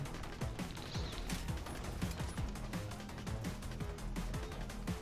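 Video game gunfire crackles in rapid, dense bursts of shots, with sharp repeated impacts over a constant low background, all fairly quiet and without speech.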